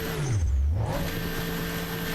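A Bugatti's large engine revs hard while its tyres spin stuck in mud, a loud sustained roar with a dipping then rising pitch sweep, close and continuous.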